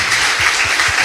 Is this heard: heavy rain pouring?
no